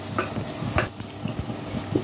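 Ground fennel and cumin seeds fry in hot oil for a prawn dry gravy, giving a close, steady sizzle broken by a few clinking stirs of a spoon.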